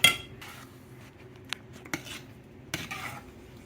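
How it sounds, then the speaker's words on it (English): A utensil stirs a thickening onion sauce in a pot on the stove for grouper with oriental sauce, giving soft scraping with a few sharp metallic clinks against the pot, close and otherwise quiet. "you keep stirring it and you'll see it starting to get thick"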